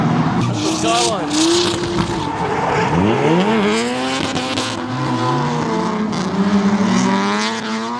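Toyota Aristo and Nissan Skyline drift cars at a Calder drift event, engines revving in rising and falling sweeps with tyre squeal as they slide sideways, loud and close, with voices talking over the action.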